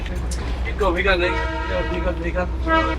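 The Darjeeling toy train sounds its horn repeatedly as it runs beside a jammed road between tea gardens. Sustained horn tones ring out loudly over the engine rumble, with a person talking throughout.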